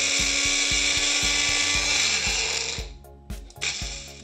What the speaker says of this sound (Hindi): अब बस इसमें ग्राइंडर में ग्राइंड करना है, थोड़ा स्लोली स्लोली करेंगे